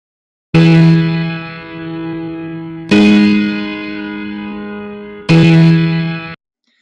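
Pitch-shifted music tracks, raised from C to E, play as three sustained, effect-laden tones with echo and reverb, each starting with a sharp attack and ringing out before the next.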